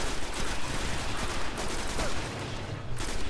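Dense rapid gunfire from a Destiny game battle against sniper enemies, with continuous bursts and shots layered over loud, busy combat noise throughout, no talk.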